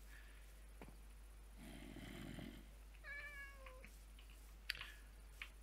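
In-game cat meowing in modded hardcore Minecraft, a couple of faint, short mews in a quiet scene with low rumble and occasional clicks.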